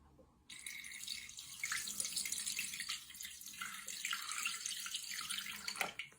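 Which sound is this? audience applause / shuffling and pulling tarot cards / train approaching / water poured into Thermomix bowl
water poured into Thermomix bowl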